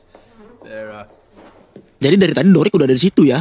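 A fly buzzes faintly for about a second as a cartoon sound effect, followed by a person talking loudly.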